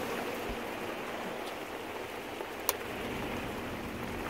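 Steady rain falling outside an RV while boondocking, a continuous even hiss of drops with one brief sharper tap partway through, no talking.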